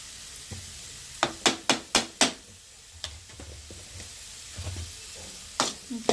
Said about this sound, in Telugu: బీట్రూట్ అయితే సగం ఫ్రై అయింది